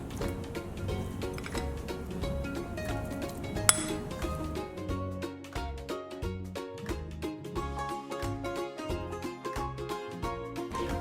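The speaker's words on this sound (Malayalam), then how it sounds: "ഇതും കൂടെ ആഡ് ചെയ്ത് നന്നായി മിക്സ് ചെയ്തെടുക്കാം" A chicken burger patty mixture with salt and coriander is stirred in a bowl, giving repeated light clinks and scrapes of a utensil against the dish in a steady, close rhythm, with one sharper clank partway through.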